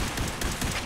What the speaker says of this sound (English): Why the fuck are you shooting me?